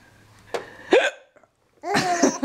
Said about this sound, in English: Mom's got the hiccups and it's so funny.